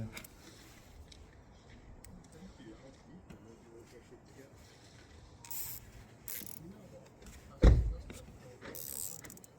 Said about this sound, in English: we're going to use a cable tie to shorten it so that it's not touching the heat shield